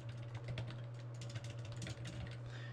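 Keystrokes tapping on a computer keyboard in a quick, uneven run of soft clicks, close by and fairly quiet, over a steady low electrical hum.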